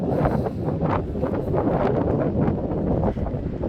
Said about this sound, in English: Boy, it's so windy.